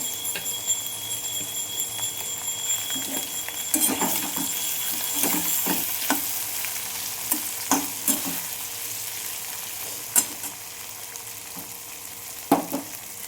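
Green chili and ginger paste fry in a pan with a bright, continuous sizzle, while a utensil stirs through it in a series of knocks and scrapes.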